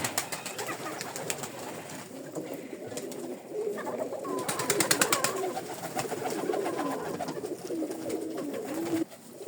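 Pigeons coo repeatedly in a backyard poultry setting among hens, soft overlapping calls close by with a low rumbling murmur and some rustling throughout.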